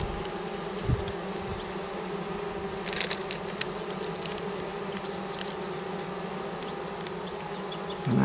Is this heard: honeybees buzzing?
yes